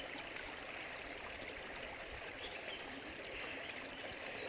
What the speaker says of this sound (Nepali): खोला यो खोला त्यहाँ दुईटा खुट्टै हाल्दा के होला